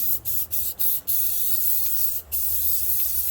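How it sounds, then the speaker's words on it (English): An aerosol can sprays white and silver paint onto a glitter tumbler, with four quick hissing bursts followed by a longer sustained spray and one more short burst, close and fairly soft. "I just start spraying."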